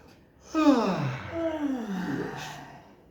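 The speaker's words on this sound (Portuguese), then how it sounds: "Depois, vai fazer bastante bocejos." A single long, deliberate yawn done as a vocal exercise, a voiced open-mouthed sound that falls in pitch and trails into a breathy sigh, close and clear.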